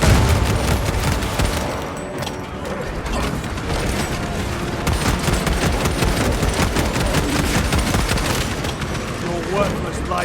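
Shock grenade blast and heavy gunfire in the Warhammer 40,000 video game Space Marine 2: dense, continuous battle noise of rapid shots and rumbling impacts, loud and close throughout.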